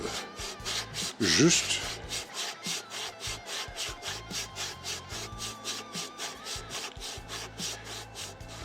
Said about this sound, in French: on détache la plaquette, et puis sur une planche sur laquelle on a collé de l'abrasif